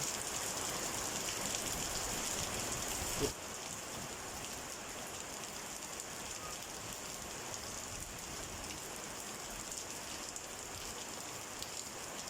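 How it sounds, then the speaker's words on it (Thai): Steady rain falls outdoors during planting of desert rose seedlings, a dense, even hiss of drops striking surfaces, close and constant throughout with no voices. "พอดีเลยพี่น้องครับ ได้น้ำฝนด้วยพี่น้องนะครับ"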